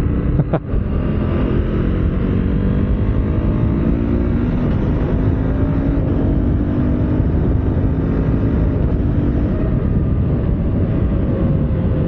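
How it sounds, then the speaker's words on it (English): A 2025 Husqvarna Vitpilen 401 single-cylinder motorcycle runs at full throttle, its engine a loud, steady, continuous drone held close for the whole stretch with no letup. "So it's in full throttle but I am safely in 45 kilometers per hour"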